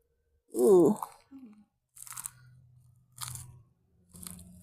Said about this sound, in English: Pine cone crunching.